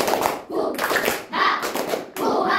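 A classroom of children clapping the rhythmic Indonesian 'tepuk semangat' cheer, bursts of hand claps in patterned groups separated by short pauses, with young voices chanting along.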